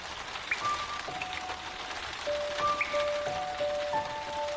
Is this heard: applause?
no